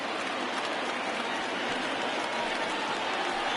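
A baseball crowd at a Mets vs. Reds game, on its feet cheering late in the game, producing a steady, dense wash of applause and roar that stays even throughout.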